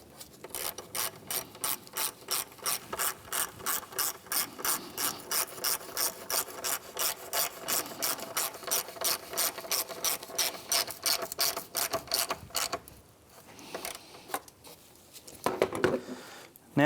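Ratchet tightening a 12mm bolt on the front of a 2007-2013 Mitsubishi Outlander during catalytic converter work: a long run of rapid, even clicks, loud and close, then a few slower, irregular strokes near the end.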